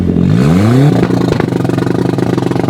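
A VW Beetle engine revving hard, its rising harmonic sweep climbing for about a second before cutting into a rapid, stuttering two-step launch-control crackle that chatters steadily and loudly to the end.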